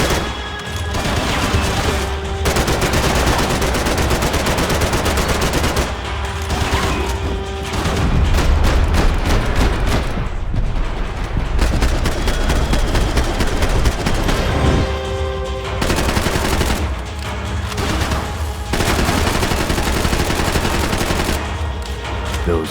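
Sustained gunfire from the Max Payne video game, dense bursts of shots and booming impacts rolling almost continuously, loud and close, with brief lulls between volleys.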